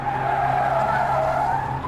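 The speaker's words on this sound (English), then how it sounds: "Medhat drove faster to penetrate the yellow sandstorm. The car swerved left and right." Car tires skidding and squealing as a vehicle swerves through a sandstorm, one continuous drawn-out screech with a slight wavering pitch, moderately loud and with no voices over it.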